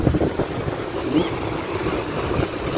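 Ocean waves wash against a sandy beach in Phuket under gusty wind buffeting the microphone, a steady roaring surf with no talking.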